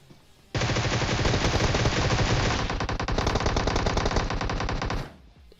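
Sustained automatic gunfire in PUBG Mobile rings out loud and unbroken for about four and a half seconds after a quiet start, then stops abruptly.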